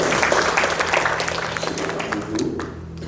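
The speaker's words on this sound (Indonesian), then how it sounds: "Tepuk tangan buat Tuhan" A church congregation at a wedding blessing claps together in a dense burst of applause that gradually thins out and fades after a few seconds.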